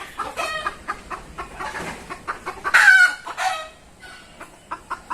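Chickens cluck and squawk close by in a rural Bangladeshi village homestead, a busy run of short, uneven calls with one louder, longer squawk in the middle, then scattered clucks trailing off.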